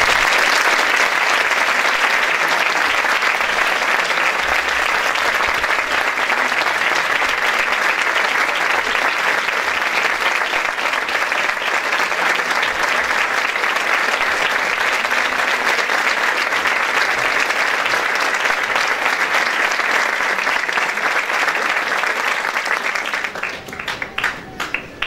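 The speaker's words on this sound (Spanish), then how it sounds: "Recibámosles con un buen aplauso." Sustained, dense audience applause at a youth band concert by a Spanish community music society's student band, loud and even for over twenty seconds before tapering off at the end.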